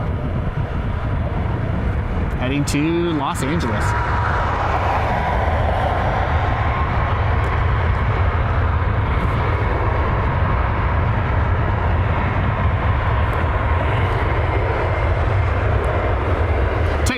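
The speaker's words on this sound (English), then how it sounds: "This is the United Max that has the mismatched engine cowling." A United Boeing 737 Max with a mismatched engine cowling roars loud and steady at Cleveland Hopkins airport, its jet noise filling the whole stretch while someone speaks briefly over it.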